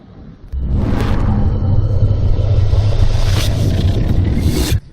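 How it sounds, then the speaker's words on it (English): Strong wind at a beach buffets the microphone in heavy, roaring gusts, a deep rumble that cuts in abruptly and holds loud and constant for several seconds before dropping away at the end. "She's bloody windy."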